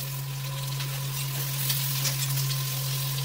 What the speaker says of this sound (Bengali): একটু ভালো করে লাল লাল করে ভেজে নেবো